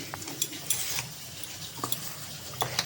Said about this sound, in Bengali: এইবার এটাকে ভালো করে নাড়াচাড়া করে মেখে নিচ্ছি।